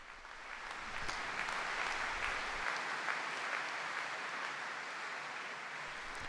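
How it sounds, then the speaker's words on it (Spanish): Faithful at Pope Francis's General Audience applaud after his catechesis. A steady, distant wash of many hands clapping continues at low volume, evenly and without breaks. "El aplauso de los fieles que agradecen al Papa su catequesis"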